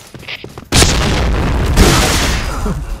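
A grenade goes off in the shooter game Point Blank: a single loud, sudden blast with a long rumbling, crackling tail that fills the rest of the moment, after a brief stretch of quieter game noise.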